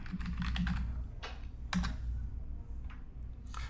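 Keys on a computer keyboard clatter as words are typed into a Tableau calculation field, bursts of quick close taps separated by short pauses, with a low hum underneath.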